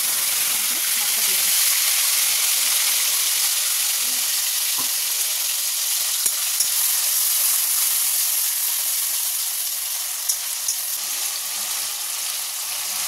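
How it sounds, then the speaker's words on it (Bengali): Whole garam masala spices sizzle in a generous amount of hot oil while tempering for a vegetarian doi potol dish, a steady close hiss with occasional pops and crackles and no talking. "এতে অল্প একটু গোটা গরম মশলা ফোড়ন দেবো, দিয়ে তেল একটু বেশি লাগে এই রান্নাটাতে"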